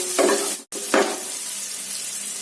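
Onions hissing as they hit hot oil in a kadai with mustard seeds, curry leaves and green chillies: a steady, close sizzle with two brief surges as ingredients go in.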